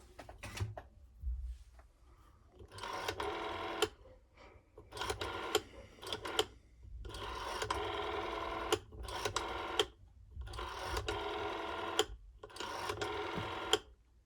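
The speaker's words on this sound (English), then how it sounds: "And now I will dial a few numbers." A 1970s Citesa Heraldo rotary telephone from Spain, gray, its dial turned several times in a row, each pull giving a close whirring, clicking return of about a second with short pauses between.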